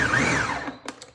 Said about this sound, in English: We're gonna give that one more little pulse.